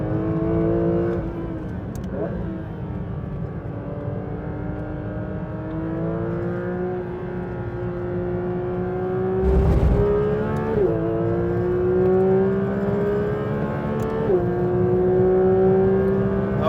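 A Porsche 992 GT3 RS engine is heard at speed through a series of corners, sustained and loud with steady harmonic pitch rising and dropping as the car shifts and changes direction, plus a brief blip around midway.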